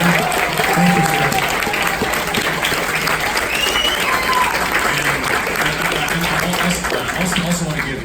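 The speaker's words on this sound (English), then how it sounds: "We just get a kind of a round of applause for TitanGoji putting this together." Loud, sustained applause from a convention audience at a Godzilla fan panel, dense clapping and crowd noise filling the room steadily for several seconds, with cheers and voices mixed in.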